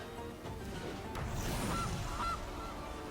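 A cartoonish goose honk plays as a card game sound effect, two short nasal honks over a busy background of game music and effects.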